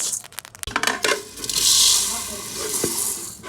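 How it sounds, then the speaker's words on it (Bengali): Rice dry-roasting in a pan for Bengali sesame pitha gives scattered clinks and scraping rattles early on, then a steady soft hiss as the grains shift and toast. "তিলের পিঠার জন্য আমরা এখন চাল ভেজে নেব।"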